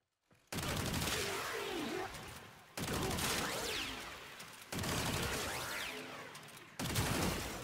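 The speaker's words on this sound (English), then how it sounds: "it's already a really cool semi-auto shotgun that sounds awesome" Shotgun blasts from the Tenet Detron semi-automatic shotgun in the game Warframe: four heavy booming shots spaced about two seconds apart, each trailing a long rumbling tail, with no talking.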